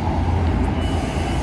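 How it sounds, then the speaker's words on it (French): Steady street traffic on a Seattle road, cars passing in a continuous low rumble with a dense wash of road noise, fairly loud and close, no voices. "Pourquoi vous faites du bruit avec vos voitures là?"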